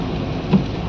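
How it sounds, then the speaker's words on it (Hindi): Steady rain pours down in Kullu Manali, a dense, even hiss of drops with a brief swell midway and no voices. "पानी बारिश हो गई स्टार्ट"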